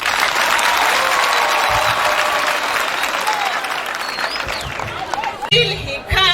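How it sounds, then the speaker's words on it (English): A school audience bursts into loud, sustained applause at a ceremony, with dense clapping that fades near the end as murmuring crowd noise takes over. "So clap again for Mr. Duncan."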